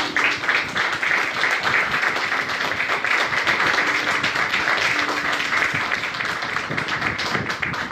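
Worshippers at a church service clap for the Lord, a lively, uneven patter of many hands with loud sharp claps mixed in, continuing steadily throughout.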